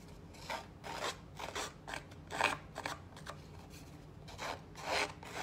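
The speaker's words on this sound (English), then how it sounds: "I am taking the edge of my scissors and just distressing the edges of this early espresso cardstock." Rhythmic rasping strokes as a scissors edge scrapes along the edges of espresso-colored cardstock, about a dozen quick rubs in bursts, close and fairly quiet, with no talking.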